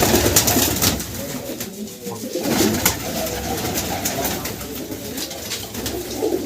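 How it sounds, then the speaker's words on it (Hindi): Pigeons cooing in a loft setup, soft repeated throaty coos from several birds close by over a continuous background murmur. "ये सब कबूतर हैं भाई।"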